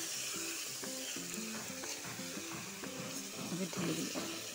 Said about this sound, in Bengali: কড়াইয়ের তেলটা গরমে ঢেলে দিব।